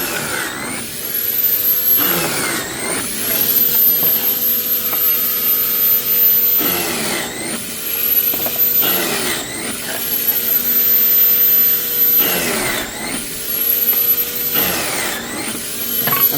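In a white oak kitchen remodel, a pocket hole machine set for 13/16 material runs its motor continuously. A loud, steady whine swells and dips in repeating cycles about every four to five seconds as each hole is drilled.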